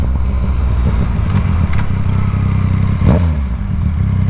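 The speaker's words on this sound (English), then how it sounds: "That's a CBR 600." A Honda CBR 600 motorcycle idles nearby with a steady low rumble, a couple of faint blips and a short rev swell near the end, heard alone without talk.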